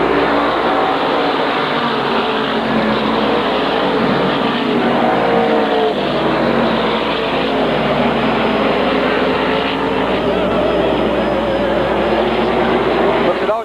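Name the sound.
SK Modified race cars racing at Waterford Speedbowl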